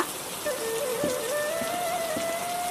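Steady rain falls with a dense patter, joined by a sustained tonal whine and a few soft thuds, with no talk.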